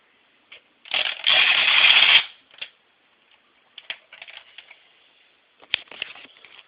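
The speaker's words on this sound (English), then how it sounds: "that sound was me extending the winch" Plastic toy winch on a G.I. Joe Night Attack helicopter being extended, a close ratcheting, clicking whir lasting about a second, then scattered lighter clicks and rattles of plastic handling.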